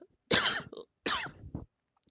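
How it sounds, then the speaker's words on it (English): Two close, loud coughs in quick succession, each a harsh burst with a short raspy tail, in an otherwise silent room. "Just like I got a cough."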